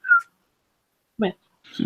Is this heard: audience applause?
no